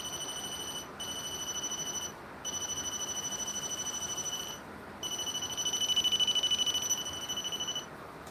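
Ghost detector device emitting a continuous high electronic beep tone that cuts out briefly several times, over a steady noisy background hiss, with no talking.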